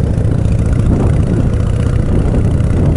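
A Harley-Davidson Shovelhead chopper engine being broken in runs with a steady low rumble, close and loud, holding an even throb without changes in pace.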